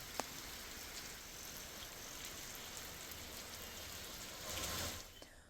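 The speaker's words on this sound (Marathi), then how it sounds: "जोरदार पावसामुळे आता वातावरणात गारवा निर्माण झाला।" Heavy monsoon rain falls steadily over Mumbai, a dense, even hiss of downpour with scattered drops striking nearby surfaces, swelling briefly louder near the end before easing; no voices are heard.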